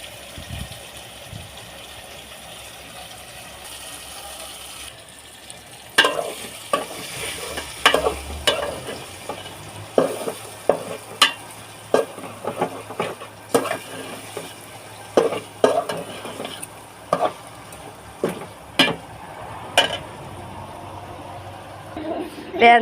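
Stir-frying chicken with jackfruit seeds in a pan, heard as repeated sharp scrapes and knocks of a spoon against the pan over a steady soft sizzle, close by, with people talking intermittently.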